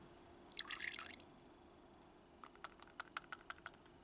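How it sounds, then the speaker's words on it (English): A capful of liquid splashes briefly into a container of water, followed by a quick series of small, faint drips and taps in a quiet room. "Well, here we are, I've got a capful, so I'll put that in."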